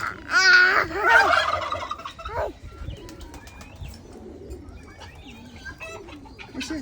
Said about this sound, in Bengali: এগুলো অনেক বড় বড়, এগুলো টার্কি মুরগি বলে।